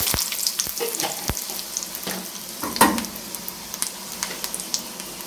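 Mustard seeds and dried red chillies sizzle and crackle in hot oil for Kerala pulissery, with steady frying hiss and sharp popping ticks scattered throughout.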